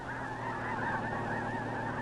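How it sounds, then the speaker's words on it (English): A large flock of geese honks continuously over flat open marshland, a dense overlapping chorus of many birds at moderate distance. "Look at the geese."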